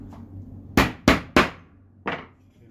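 An Einhell pneumatic nailer fires nails into wood: three sharp, loud percussive shots in quick succession, then a fourth after a short pause, over a low steady compressor-like hum.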